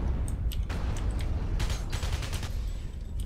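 Gunfire in the Alien Breed: Impact video game, a quick cluster of rapid, crackling shots over a droning, mechanical game background, moderately loud and continuous.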